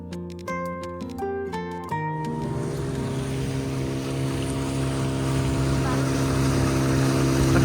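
Speedboat engines drone steadily along the Kapuas River waterfront at Pontianak, a continuous motor rumble with wind and water noise that grows slightly louder, following a few sharp musical tones at the start.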